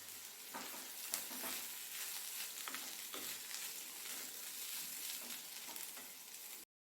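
Aval upma, flattened rice with potato and onion, is stirred in a hot pan, making a steady moderate sizzle with soft rhythmic scraping strokes that stops abruptly at the end.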